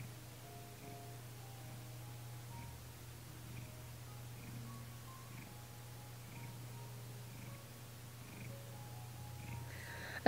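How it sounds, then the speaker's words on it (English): A domestic cat purrs steadily and faintly throughout, a low continuous rumble with little variation, with no voices over it. "I don't know if you can hear, but my cat is actually purring"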